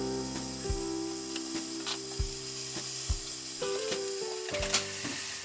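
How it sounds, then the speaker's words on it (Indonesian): Thin shabu-shabu style beef slices sautéing in two tablespoons of hot cooking oil, a quiet steady sizzle punctuated by repeated knocks and scrapes of a utensil against the pan, with no talking. "Panasin minyak goreng, ini 2 sendok makan. Terus kita tumis dagingnya."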